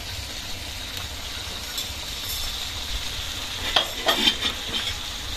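Fish cardillo with egg sizzling in a frying pan while being stirred, a steady close hiss of frying with a few scraping stirs near the end.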